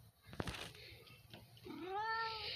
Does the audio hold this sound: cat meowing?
yes